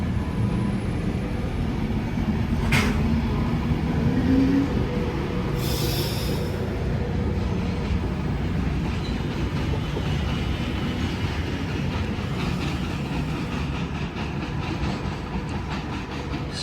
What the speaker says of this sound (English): Behind me, I just heard the cross country now departing.